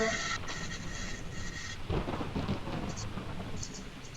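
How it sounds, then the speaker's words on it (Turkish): Thunder rumbles and cracks through a steady rain in a Roblox video game storm, loud and rolling, with a heavier boom in the middle. "Lan yıldırımlar basmaya başladı. Evet yıldırımlar çöküyor."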